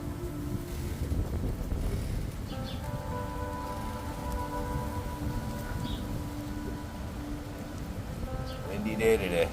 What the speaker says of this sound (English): Windy day today. Blowing the ball around the yard.